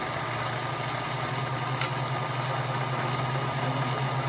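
A powerful smoothie blender runs continuously, a loud steady motor drone with a constant low hum and broad whirring noise, close up and unbroken.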